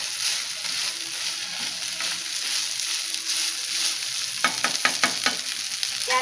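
Jeera rice is stirred in a pan with a steady, soft sizzling and scraping, joined near the end by a few sharper clicks of the spoon against the pan; no voices.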